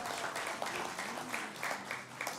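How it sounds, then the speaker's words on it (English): Applause rings out from the audience at the Scottish Liberal Democrats spring conference for a dog named Sky, steady and fairly full clapping sustained throughout, heard alone without talking. "Can we have a little round of applause for Sky,"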